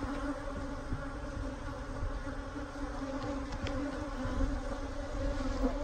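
Honey bees hum and buzz around a queen in a split that went laying worker, a steady dense drone close by with no talk over it.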